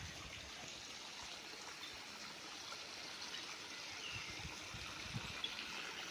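A muddy river on a rainy farm lot in Lucban, Quezon, flows with a continuous, fairly faint rushing wash, steady and without voices.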